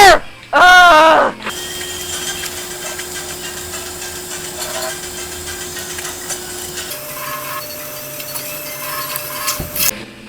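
A UFO in the video game Bubsy 3D gives off a steady mechanical whir like a blow dryer, droning on for several seconds after a short burst of a character's voice and game sounds.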